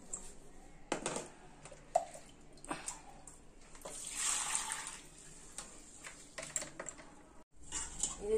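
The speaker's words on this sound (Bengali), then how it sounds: "এই চালটাকে এখন অনেকবার ভালো করে ধুতে হবে, ভালো করে না ধুলে কিচকিচ করবে" Broken rice (khud) is washed by hand in a bowl of water, with soft intermittent sloshing, swishing and light splashes close by and fairly quiet, and no talking.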